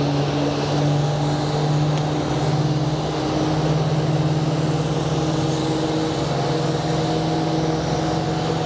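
A jet airliner's engine spools up at Sky Harbor International Airport, a steady droning hum with sustained tonal whine holding constant and moderately close throughout, with no talking.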